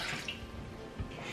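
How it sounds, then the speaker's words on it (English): Water is poured into a pot as a brief, close splashing rush, with no talking. "here I'm adding 1 cup of water."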